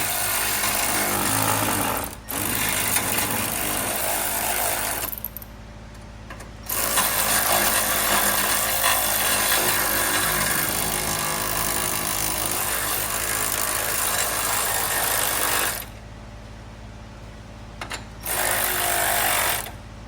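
A power tool tightening nylock bolts on a battery conversion kit in a Honda Element, loud sustained rattling bursts with brief pauses between runs.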